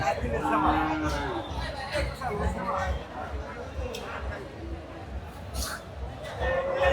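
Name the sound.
cattle at Joymondop cattle market, Manikganj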